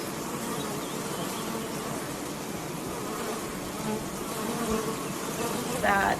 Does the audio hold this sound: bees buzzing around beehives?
yes